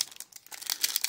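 A Pokémon card pack wrapper, from a Crown Zenith Elite Trainer Box, is torn open in a brief burst of close, crisp foil crinkling and ripping with a short pause midway.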